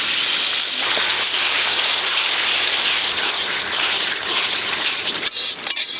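Water poured into a pan of well-fried oil and spices, a loud, dense hiss and rushing spatter that holds steady, then thins with a few bumps near the end.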